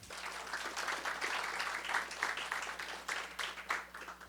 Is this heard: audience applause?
yes